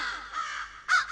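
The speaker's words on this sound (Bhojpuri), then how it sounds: "कौआ अनेरे नहीं बोलता" A crow calls at close range, two or three harsh, nasal caws in quick succession, the last one loudest, with no other sound around.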